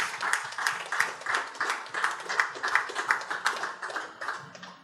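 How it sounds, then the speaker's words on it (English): Audience in a room gives a round of applause at a ceremony for a clinical education centre in Guyana, moderately faint, steady pattering claps continuing throughout. "we owe him a resounding round of applause for this"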